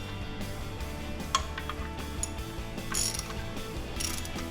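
A ratchet clicks in short bursts while snugging the thermostat housing bolts on a Jeep Wrangler JK over a new gasket, close and crisp, with brief metallic clinks between strokes.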